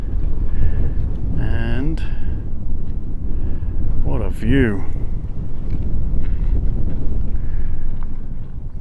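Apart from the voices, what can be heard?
wind blowing at a mountain viewpoint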